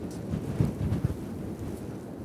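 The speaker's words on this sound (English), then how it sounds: "we've got 25 mile an hour winds with 50 mile an hour gusts" Strong gusting wind on an open sandy stretch, a low rumbling buffet against the microphone with a few heavier thumps, steady and close throughout.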